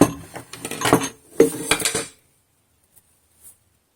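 A few quick clatters of a metal mixer bowl and utensils being handled, then a short pause with a couple of faint clicks.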